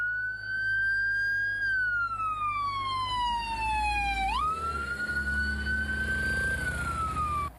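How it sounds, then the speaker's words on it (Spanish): Wailing siren of an ambulance arriving and leaving, rising and falling in long sweeps with a pitch drop as it passes, loud and continuous over low road rumble, no voices. "comenzaron a entrar y salir ambulancias"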